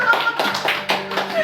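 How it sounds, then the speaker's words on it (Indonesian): A few rhythmic hand claps from a small group in a talk-show setting, four distinct bursts of clapping close by, with a voice speaking underneath. "Kalau ketiga kali kita tepuk tangan dulu"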